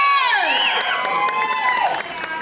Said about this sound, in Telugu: గట్టిగా వీళ్ళిద్దరికి ఒక్కసారి క్లాప్స్.